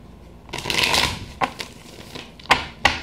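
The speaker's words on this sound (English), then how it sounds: "I'm going to shuffle this one more time." Tarot cards riffled and shuffled close by, a longer burst followed by a few short sharp snaps of the deck.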